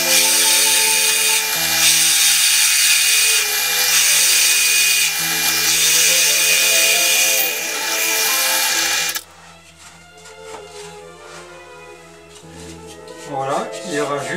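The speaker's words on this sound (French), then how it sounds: "nous allons maintenant percer avec la perceuse à colonne" A drill press bores into cherry wood, giving a loud, steady high whine for about nine seconds before it cuts off, and then someone speaks over quieter workshop noise.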